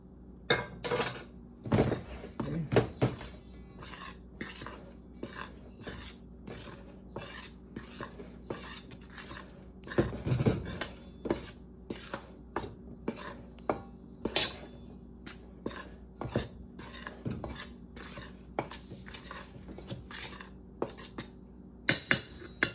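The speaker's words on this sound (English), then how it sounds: "just mix that salt in with the flour. Just stir it like this" Salt being stirred into flour in a bowl for homemade bread: a steady run of soft scrapes and light clinks of utensil against the bowl, close by, with occasional louder knocks and no talking.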